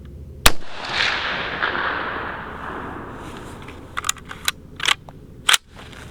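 A single sharp shot from an ACR DMR rifle with a suppressor fitted rings out near the start and trails off into a long decaying rumble, followed by a few small clicks and knocks.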